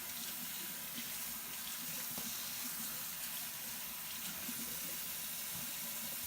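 Water runs steadily from a tap to rinse photographic film during development, a constant close hiss and splash that holds unchanged throughout with no voices.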